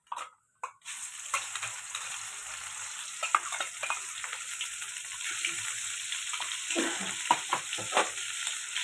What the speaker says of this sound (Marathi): कढईमध्ये तेल चांगलं गरम झाले त्यामध्ये टाकूया जिरा मोहरी जिरा मोहरी छान तडतोड देऊया त्यानंतर कांद्याची पेस्ट टाकूया